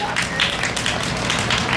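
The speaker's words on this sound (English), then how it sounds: "Give them a big round of applause, everybody" Audience at a county fair stage show clapping, a brief dense burst of applause close by, with a voice talking over it.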